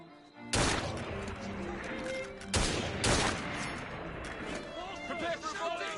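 A gunfire volley in Assassin's Creed Syndicate sounds as a few sharp, loud bursts of massed shots, the first and largest followed by two more closely spaced blasts, each trailing into reverberant noise.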